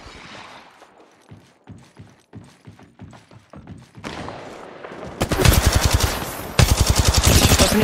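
Rapid automatic gunfire in the mobile shooter Apex Legends Mobile, first a series of spaced single shots, then dense sustained bursts that grow louder and faster near the end.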